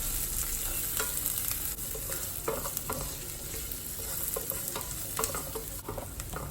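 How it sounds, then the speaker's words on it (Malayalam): Dry fruits sauté in hot ghee in a pan for a sweet sheer khurma: a dense, constant sizzle and bubbling up close, with light clicks of stirring and no voice. "നെയ്യ് ചൂടാകുമ്പോൾ നമ്മൾ അതിലേക്ക് ഡ്രൈ ഫ്രൂട്ട്സ് ഇട്ട് കൊടുത്ത് ഒന്ന് വഴറ്റിയെടുക്കേണ്ടതാണ്"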